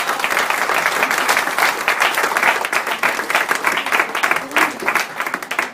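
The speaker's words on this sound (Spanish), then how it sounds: "Recibámoslos con un fuerte aplauso," An audience at a medical conference bursts into sustained applause, a dense wash of many hands clapping loudly and close for several seconds, swelling and fading slightly without pause.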